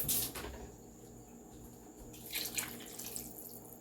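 Water poured into a crock pot over a chicken carcass for soup, a quiet steady trickling stream with a brief louder splash at the start and a swell midway.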